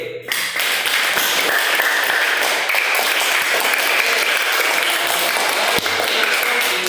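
A classroom of students applauds student groups, dense steady clapping that begins abruptly and carries on for several seconds at close range, with a few brighter taps and pings scattered through it.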